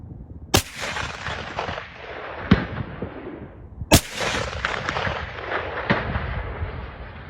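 A sniper rifle fires at a propane tank about 500 yards away as a simulated roadside bomb, giving two sharp, loud outdoor gunshots a few seconds apart, each followed by a long rolling echo and fainter distant cracks.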